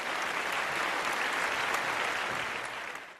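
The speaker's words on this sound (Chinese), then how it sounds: "首先掌声欢迎今天坐镇现场的三位专家老师" A television studio audience in China gives dense, steady applause for three experts seated on a cultural art appraisal show, the clapping loud and unbroken before tapering at the end.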